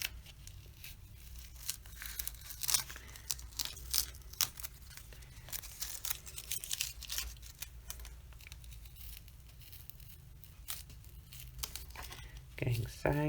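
Masking tape is peeled from watercolor paper in a series of quiet, crackly tearing strips, with soft crinkling between pulls and a speaker talking near the end.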